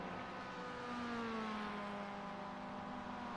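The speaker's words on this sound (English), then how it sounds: "Oh, cars are on track right now." Race cars circle the track at Watkins Glen in a sim racing game, giving a faint, steady engine drone with rising and falling pitch that sits low under the mix, with no talking.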